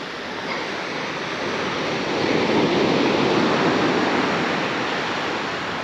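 Waves breaking and washing over a shingle beach, a continuous rushing roar that builds midway and stays loud, with some wind across the microphone and no talk.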